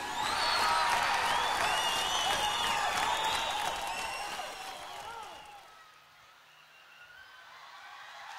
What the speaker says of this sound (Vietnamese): con xin quý vị cùng dành một tràng pháo tay để cùng với con chào đón lên sân khấu